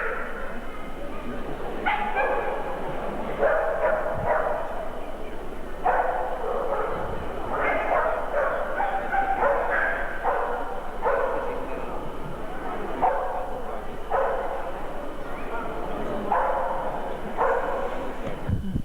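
Dogs at a Bull Terrier club trophy show bark, yip and whimper in repeated bursts roughly every second, running throughout alongside people speaking.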